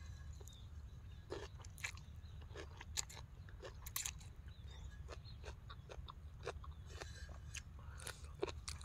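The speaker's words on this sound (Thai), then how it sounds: "แต่มันเคี้ยวกรุบกรอบๆนะ" Close, crunchy chewing and biting while eating a spicy Thai papaya-style salad with shellfish, repeated crisp crunches in an irregular rhythm over a steady low background hum.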